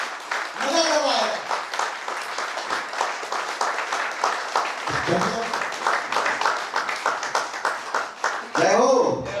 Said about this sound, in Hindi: तालियों में धूम होनी चाहिए, उत्साह होना चाहिए, जोश होना चाहिए